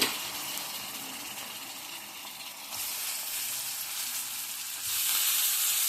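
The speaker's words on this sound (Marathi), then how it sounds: "मसाला छान फ्राय करून घेऊया मसाला मस्त फ्राय झालेला आहे" Masala frying in a pan before brinjal goes in, a dense continuous sizzle that swells louder partway through and again near the end, close and steady with no talking.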